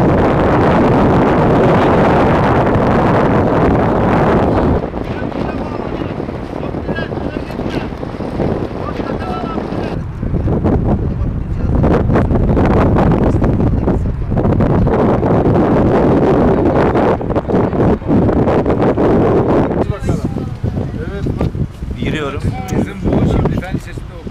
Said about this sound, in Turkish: rüzgar da var oğlum